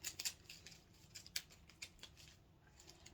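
Playing cards being shuffled by hand produce a faint, close series of quick papery snaps and flutters in irregular bursts, with quiet gaps between.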